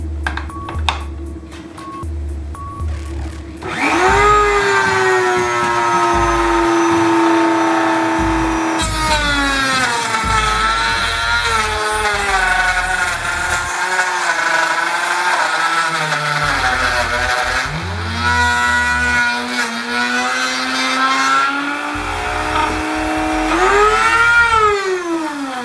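A Dremel rotary tool mounted in a router platform cuts wood with a loud, steady high whine that dips and recovers in pitch as the bit bites into the board, running continuously and close up with no talking.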